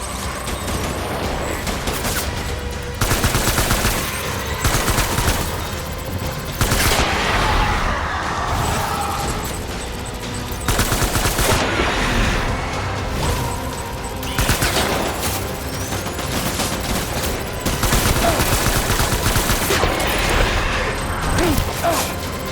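Repeated bursts of gunfire from the video game Death Stranding, loud and close, arriving in clusters separated by brief lulls over a steady background bed.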